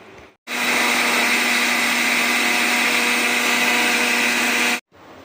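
An electric blender grinds pumpkin juice with curry leaves, salt and curd, a loud, steady whirring drone that starts abruptly after a brief quiet, runs about four seconds and cuts off sharply.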